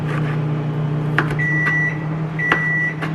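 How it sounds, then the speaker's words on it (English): A microwave oven heats cauliflower rice for a sugar snap pea stir fry, giving a steady low hum with two short beeps partway through. "Along with the cauliflower rice, which I've got heating in the microwave."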